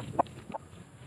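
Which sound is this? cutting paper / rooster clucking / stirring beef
rooster clucking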